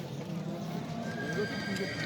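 A four-year-old working horse neighs at a busy livestock horse bazaar in Nookat, Kyrgyzstan. The whinny sits fairly faint within steady market crowd noise and murmured voices.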